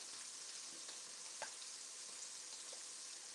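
Continuous soft hiss and crackle of scallops sizzling in a hot pan, steady and close, with a few small pops.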